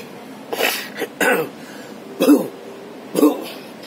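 Four short, harsh coughs and throat clearings spaced about a second apart, close by against a quiet background.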